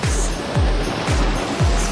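Rushing water of a stream or drainage channel in the Kullu mountains, a loud steady broadband roar filling the whole clip close by, with no speech.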